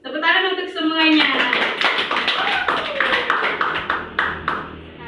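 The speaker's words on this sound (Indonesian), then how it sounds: "Tepuk tangan untuk semuanya." Schoolchildren in a Year 5 classroom break into a burst of clapping that follows a teacher's voice, the claps fast and uneven, close by, tapering after a few seconds.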